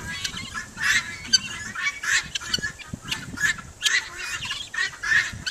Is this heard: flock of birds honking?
yes